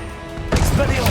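Incendio fire spell in the Hogwarts Legacy video game: after half a second of near quiet, a sudden loud crackling burst of flame erupts and roars on, sharp and close.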